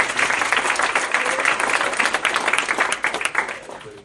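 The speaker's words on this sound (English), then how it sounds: "y'all give a nice round of applause" A crowd at a homegoing memorial service for a poet gives a round of applause, dense steady clapping that holds strong and then thins and fades near the end.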